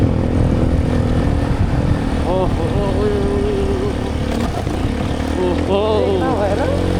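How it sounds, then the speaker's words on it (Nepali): A motorcycle engine drones continuously up close on an off-road mountain track in Upper Mustang, Nepal, its pitch rising and falling with gear changes and clutch work, rear brake not working, while a voice talks over it. "क्लच खेलाउँदै बाइक चलाउनु परेको छ"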